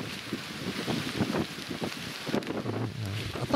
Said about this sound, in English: You can see the wind is just whipping.